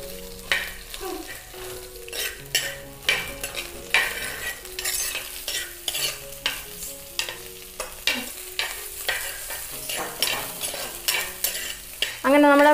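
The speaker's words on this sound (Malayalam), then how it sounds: "അതുകൊണ്ട് വെളിച്ചെണ്ണയ്ക്കകത്ത് അതിൻ്റെ ആ കൊഴുപ്പൊക്കെ ഒന്ന് മാറാനായിട്ട് നമ്മൾ വെളിച്ചെണ്ണയ്ക്കകത്ത് ഇതൊന്ന് വഴറ്റിയെടുക്കുന്നത്." Okra sautéing in coconut oil in a Kerala village cooking setup: a steady sizzle with rhythmic scraping strokes of a utensil stirring the pan, close and clear, with no talk.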